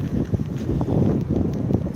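Strong gusts buffet the microphone on a city street in Turku a few days after Christmas, a steady low rumbling roar with uneven surges throughout.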